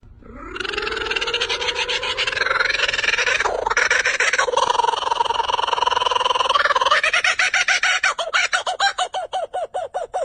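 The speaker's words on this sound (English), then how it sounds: "Kookaburra." A kookaburra calls close and loud, its laughing cackle rising into a sustained chattering burst and breaking into rapid rhythmic hoots toward the end, with no other sound beside it.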